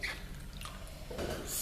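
Water pours steadily into a measuring container, a continuous splashing trickle that swells and brightens toward the end, close and with no talking.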